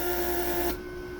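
A Mercedes PSE central-locking vacuum pump runs with a steady electric whine and hum, bench-wired for testing, then cuts off abruptly partway through, leaving only faint background noise.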